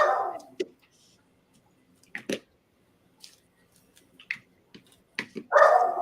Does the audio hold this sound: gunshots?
no